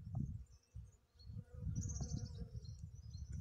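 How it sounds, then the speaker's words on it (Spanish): Hundreds of honey bees buzz steadily in a flowering almond tree during a Mediterranean spring, a dense low drone that swells and dips with faint bird chirps above. "Cientos de abejas"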